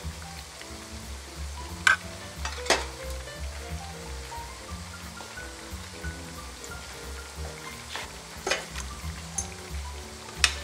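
Piaju, lentil fritters, deep frying in hot oil with a steady crackling sizzle throughout, broken by a few sharper pops and spits.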